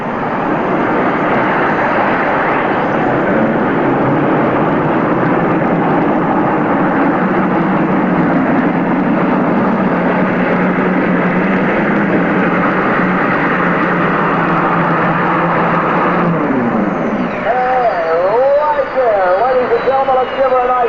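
An unlimited modified pulling tractor engine roars steadily and loud for about seventeen seconds at a 1992 Bowling Green, Ohio pull, then drops away as a voice takes over.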